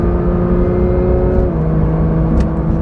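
The engine of a Porsche 992.1 911 GT3 pulls hard on a mountain road, a loud sustained mechanical roar that climbs in pitch and shifts partway through, close and filling the cabin.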